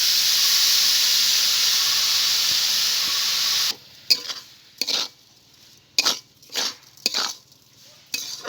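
Coconut filling for puli pitha fries in a kadai on a stove, opening with a loud, steady steaming sizzle that stops abruptly, followed by several separate scraping stir strokes with short quiet gaps between them.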